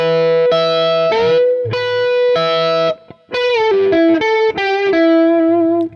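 A distorted electric guitar plays a classic rock lick slowly, with distinct picked notes and bends in short phrases, with a brief pause midway, loud and close.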